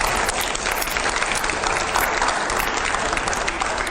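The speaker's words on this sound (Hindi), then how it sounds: "जोरदार तालियों अगले सवाल से पहले।" A TV interview studio audience claps loudly and steadily, dense continuous applause filling the whole stretch with no talk over it.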